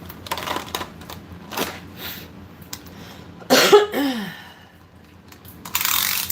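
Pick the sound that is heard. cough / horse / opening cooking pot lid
cough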